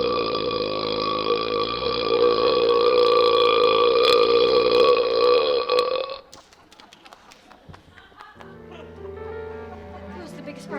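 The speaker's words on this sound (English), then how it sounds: "Who's the biggest burp I'd ever heard?" A huge, drawn-out burp from a stage production of Matilda the Musical rumbles loud and sustained for about six seconds, followed by quieter stage sounds and chatter.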